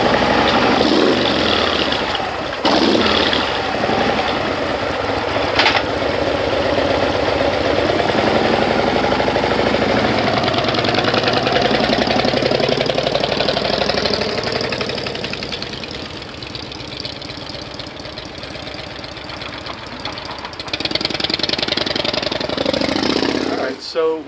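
A Harley-Davidson motorcycle engine runs steadily after HHO carbon cleaning, a loud close continuous rumble with a slight dip in level partway before rising again; a voice is heard over it.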